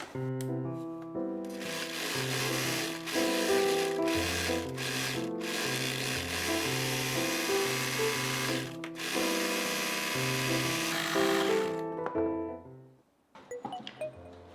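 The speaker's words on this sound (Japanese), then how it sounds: "脇にロックミシンをかけます。" An overlock serger runs in steady fast bursts, sewing the side seam edge of a skirt, its rapid mechanical stitching chatter close and loud, pausing briefly and stopping near the end.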